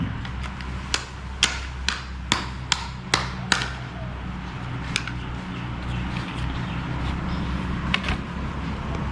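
A toy hammer from a children's tool set makes a series of sharp, bright taps, six quick strikes in a row, then a few more scattered hits over a steady low background hum.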